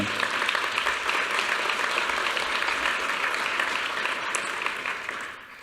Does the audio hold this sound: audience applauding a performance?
yes